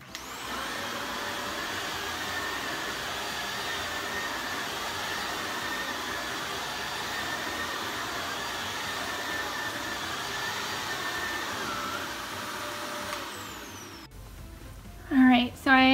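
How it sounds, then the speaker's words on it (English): A vacuum cleaner runs steadily, sucking baking soda off a carpet stain, a loud continuous whine that stops near the end, followed by a few brief bumps. "I'm gonna let this dry and then I'm gonna vacuum it up."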